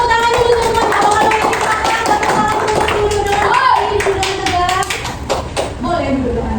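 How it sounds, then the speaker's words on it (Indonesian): A classroom full of children clapping together, loud and sustained, with scattered young voices chattering over the applause. "Tepuk tangan dulu semuanya."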